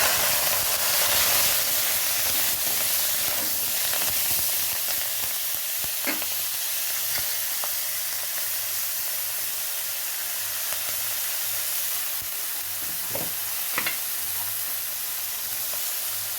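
Dry red chilli, five-spice seeds and ground ginger sizzle in hot oil in a pan while cooking bathua greens, a loud, continuous close hiss with a few faint clicks of stirring and no talk.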